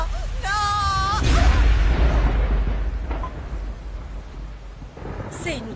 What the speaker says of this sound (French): C'est une grosse tempête.